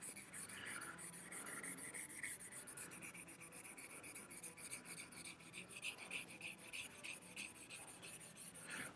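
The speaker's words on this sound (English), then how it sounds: "So I'm gonna go ahead and sand this down." Steady rhythmic rubbing of sandpaper over the clear coat of a 1/4-scale sculpture, a soft raspy scratching that repeats in back-and-forth strokes, quiet and close.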